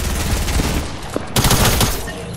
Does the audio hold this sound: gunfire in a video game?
yes